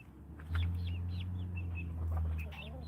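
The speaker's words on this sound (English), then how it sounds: "And we are watching chickens" Soft clucks and short calls from chickens close by, over a low steady hum.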